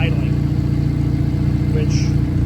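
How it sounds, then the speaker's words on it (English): A car engine idles in a steady, loud, continuous rumble while the car sits in place, with brief faint higher sounds on top. "if this doesn't get hot sitting here idling"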